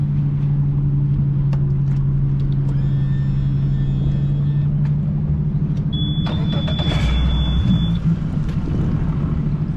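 Whaler boat outboard engine running on open local water, a steady close droning hum with constant rumble throughout, a brief higher whine and some splashing mixed in near the end.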